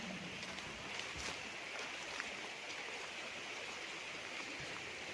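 A small stream flows through a farm lot in Liliw, Laguna, a soft, steady rushing and babbling of water heard alone at a low level.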